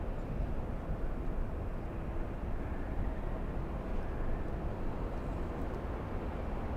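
A Boeing Dreamliner airliner on final approach at LAX gives a steady, fairly distant low roar of jet engines, with no voices over it.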